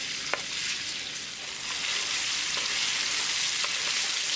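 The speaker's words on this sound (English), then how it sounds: "As the oil starts to heat up, add garlic and ginger." Garlic and ginger frying in hot oil, a dense, steady crackling sizzle that swells slightly over a few seconds, with a couple of faint clicks of a utensil and no voices.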